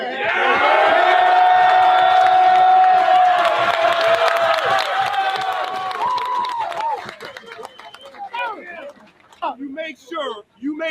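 A stadium crowd roars loudly and steadily after a Chicago Bears playoff win, a dense wall of cheering and whoops that gradually thins toward the end into scattered shouts and voices.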